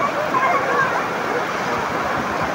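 Heavy rain pouring during a thunderstorm, a loud, dense and steady hiss with no breaks.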